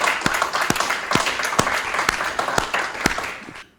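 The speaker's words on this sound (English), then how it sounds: "Give this group a round of applause." At a high school senior recognition ceremony, a crowd applauds an award recipient with steady, mid-loud clapping and some sharper individual claps standing out, tapering off near the end.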